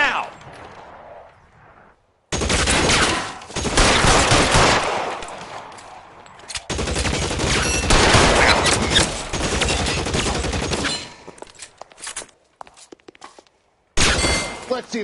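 Gunfire erupts in the video game LA Noire, with loud, close bursts of rapid shots in long sustained volleys separated by short silences, and a final burst at the end.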